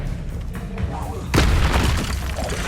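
The Expelliarmus spell is cast in the video game Hogwarts Legacy as a sudden booming burst with a shattering crackle, rising out of busy background game sound.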